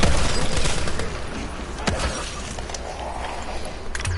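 The Draken rifle fires nonstop at its maximum rate in Black Ops 3 zombies on the Ascension map, a loud, dense, continuous stream of shots with scattered impacts and no talking.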